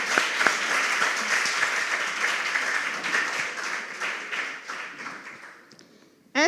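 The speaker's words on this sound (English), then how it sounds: "Give them a round of applause." An audience at a junior school quiz competition gives a steady round of dense applause. Many hands clap continuously, then fade toward the end, and a brief voice cuts in at the close.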